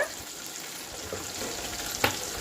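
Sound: onion and green chili frying in oil

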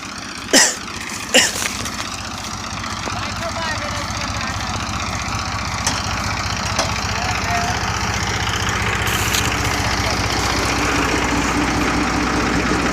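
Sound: tractor engine running while sowing with zero-till drill

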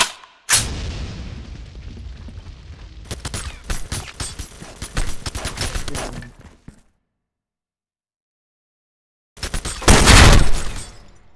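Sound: gunfire in the video game Special Force 2

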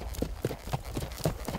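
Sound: Mangalarga Marchador horse hooves

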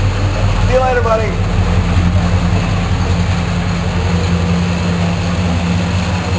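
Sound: SS396 Chevelle engine running

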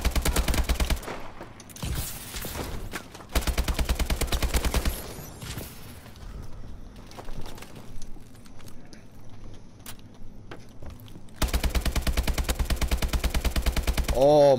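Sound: AK-47 gunfire in video game Call of Duty Advanced Warfare

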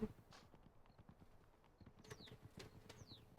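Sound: horse hooves while riding in the video game The Sims 4

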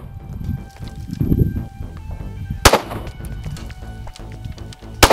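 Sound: Springfield XDS pistol shots fired with live ammo

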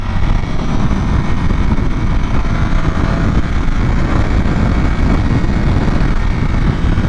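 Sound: Ducati Panigale V4 motorcycle engine with stock exhaust riding

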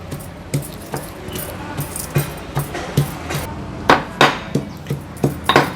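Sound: ginger and garlic pounded in a mortar and pestle

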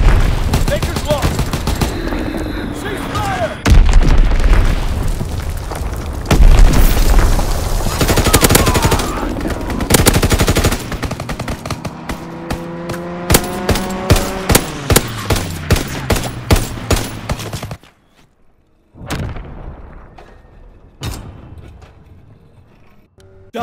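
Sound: Azon bomb explosion and gunfire in video game Call of Duty WW2

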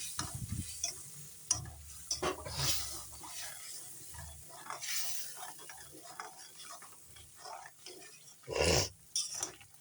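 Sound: stirring paneer curry masala with a little water

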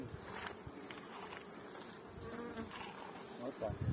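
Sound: bees flying out of a hive

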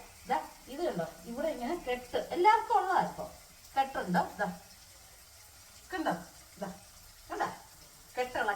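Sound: nangu fish frying in a pan

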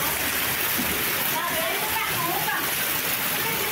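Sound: floodwater from heavy rainstorm flowing through streets

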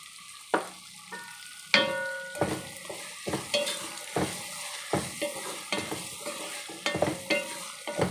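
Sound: stirring frying food after adding turmeric powder

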